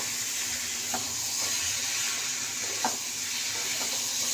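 Soybean and potato sauté in a pan with a continuous close hiss of frying, punctuated by a few faint clicks of stirring; no voice is heard.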